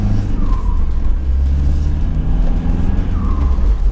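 Modified exhaust of a 2007 Ford Transit SportVan with some exhaust parts deleted, a loud, steady low rumble from close by, with faint rising whine accents and no talking.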